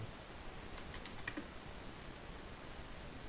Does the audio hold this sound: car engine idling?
no